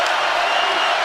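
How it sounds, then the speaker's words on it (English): A packed basketball arena crowd at an ASU versus Arizona game roars in a brief, loud, unbroken wash of cheering. "This crowd will not sit down the rest of the night."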